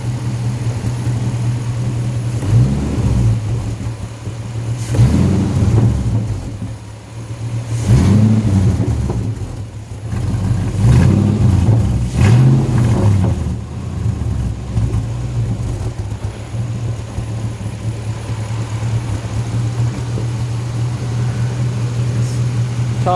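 A homemade V8 racecar fitted with old Dodge truck parts idles with a steady rumble, then revs in several throaty bursts before settling back into a rough idle, close and loud.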